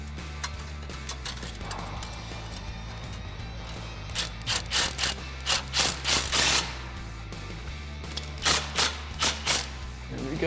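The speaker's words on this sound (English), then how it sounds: "Let's get our 13mm back on our socket." Ratchet with a 13mm socket tightening a reused factory exhaust clamp joining muffler and tailpipe on a 2011-2014 Mustang GT, giving bursts of rapid clicking strokes up close over a low background hum.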